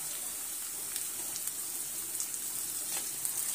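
Chopped green chillies fry with roasted ginger and garlic in a pan for potato curry, a steady close sizzle running throughout with a few faint crackles.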